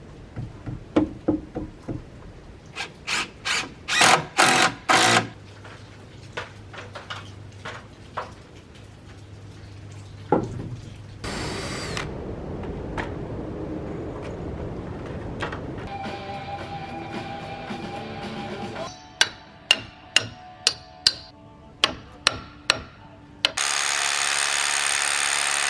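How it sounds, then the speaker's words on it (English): Sharp knocks and taps, then a sustained mechanical whir of a power drill driving into deck boards, followed by a quick series of close, crisp clicks. "Gonna be a lot of drilling going on."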